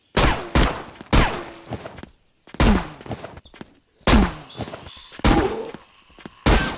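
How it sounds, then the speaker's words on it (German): Repeated bursts of gunfire in the Zompiercer zombie game, several loud separate volleys with short gaps between them, aimed at zombies, with thuds and clatter mixed in. "Wir müssen anscheinend wirklich nur auf die Füße schießen."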